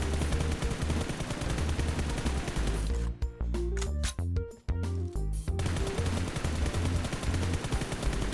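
Loud, continuous automatic gunfire from the mobile shooter game PUBG Mobile, with dense rapid bursts that briefly break up midway before resuming at full intensity.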